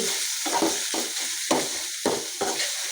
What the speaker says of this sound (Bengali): এদের মধ্যে আমি বাগার দিচ্ছি